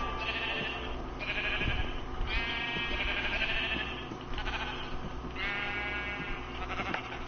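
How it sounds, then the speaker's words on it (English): Sheep in the Minecraft video game bleat repeatedly, several drawn-out wavering baas coming at irregular intervals over a steady game background hum. "Get out of here, sheep."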